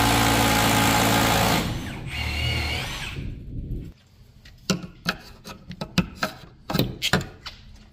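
A power drill with an auger bit bores steadily and loudly for about four seconds, its whine wavering, then stops, followed by scattered clicks and knocks.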